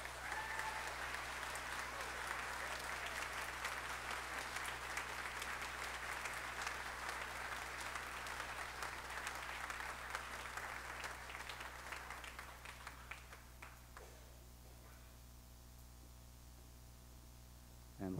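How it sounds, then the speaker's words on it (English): A large concert audience gives choir students a long round of applause before a Carmina Burana performance. The clapping is dense and steady over a low hum, then fades out and leaves quieter room noise and a few scattered claps. "let's just give them a round of applause"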